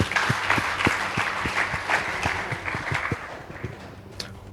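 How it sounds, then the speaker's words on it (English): Applause for the Upper Hill Boys High School team after a school debate result, a steady patter of many hands clapping with a few louder, closer claps standing out, tapering slightly toward the end. "Please give them a round of applause"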